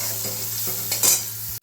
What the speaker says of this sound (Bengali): সয়াবিনটা ভেজে নেব।